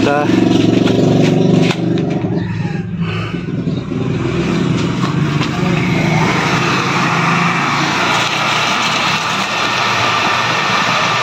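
A newly installed shallow well water pump runs with a loud, steady motor drone and rattle, while a person talks over it.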